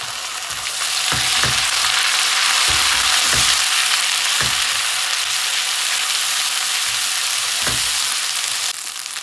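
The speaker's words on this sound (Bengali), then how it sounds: "ওই মাছের তেলের ভিতরে আমি পেঁয়াজ কেটে দিয়ে দিচ্ছি" Onions sizzle in hot leftover fish-frying oil, a steady loud hiss with a few sharp stirring knocks now and then, and no voices.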